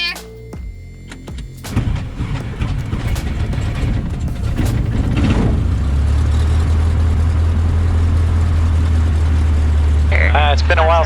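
A Cessna 152 trainer aircraft's engine starts up after a few clunks and a brief cranking whir, then settles into a loud, steady idle that drones on close by while a voice speaks briefly near the end.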